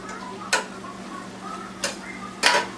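Mushroom and spinach gravy stirred in a pan, three distinct scraping strokes of a spoon against the metal over a quiet background.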